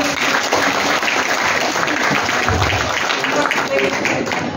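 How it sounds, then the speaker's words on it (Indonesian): An audience at a symposium on cross-cultural religious literacy claps in continuous, dense applause that holds at a steady loudness for the whole stretch, with no pause. "Beri aplaus dulu."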